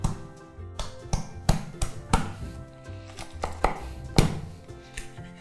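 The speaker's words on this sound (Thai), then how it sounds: "โอเคเราก็หั่นเลยกระดูก" A cleaver chops raw chicken through soft bone on a board, giving about a dozen sharp, hard thuds in an uneven rhythm, close and fairly quiet, with no talking.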